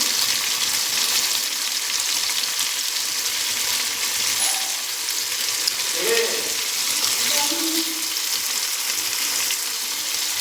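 Spices, including stone-ground paste and turmeric, fry and get stirred in a pan for a home-style garlic pointed gourd dish, with a loud continuous sizzle and a few metallic clinks of the spoon.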